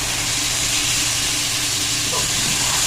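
Half a kilo of minced meat sizzling loudly in a hot pan with fried ginger and garlic, a steady broad hiss running throughout with no talk.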